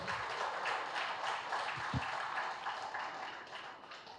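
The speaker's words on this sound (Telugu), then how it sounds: "పిప్పల ప్రసాద్ సార్కి గట్టిగా చప్పట్లు కొడతాం." An audience at a Manasa Sarovar gathering in Vijayawada applauds for Pippala Prasad, a steady wash of many hands clapping at moderate distance, sustained evenly throughout with no speech.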